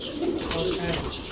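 A pigeon kept for racing coos once close by, a short soft throaty burble, with faint background noise.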